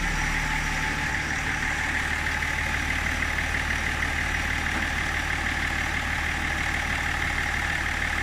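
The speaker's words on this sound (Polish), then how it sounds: "Słuchajcie, auto odpaliłem." A BMW E39 with an M57 diesel engine idles steadily nearby, a constant low rumble with an even hum that holds unchanged throughout, with no talking. The car is hard to start and lacks power.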